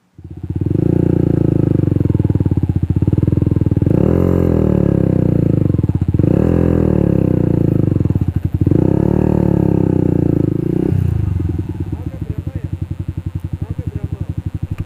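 An underbone motorcycle engine runs close by, revving in repeated surges before dropping to a steady, lower idle near the end, on the thick sand sea at Bromo.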